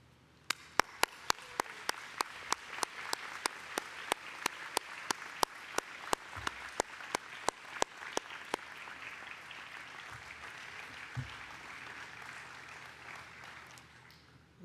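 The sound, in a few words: graduation audience applauding graduates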